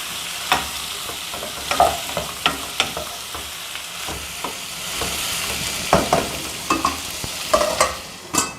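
Chayote (chow chow) cooks for chutney in a pan under a lid, giving a soft, steady sizzle. Scattered sharp clicks and knocks punctuate it, and no one speaks.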